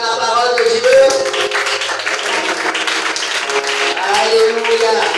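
A church congregation at a Sunday service claps loudly in unison while voices cheer and acclaim over it, continuing steadily throughout.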